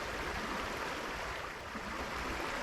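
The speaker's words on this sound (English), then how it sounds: "I'm sitting here mesmerised by the sound of the rushing stream next to me." A rushing stream flows beside a tent on Canada's Bruce Trail, a close, dense and steady wash of water that holds even throughout with no voices.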